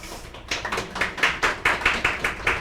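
Sparse hand claps from an audience after a poetry reading, about a dozen distinct, fairly even claps in a steady rhythm, close and moderately loud, with no speech.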